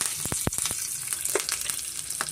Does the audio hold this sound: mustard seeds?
yes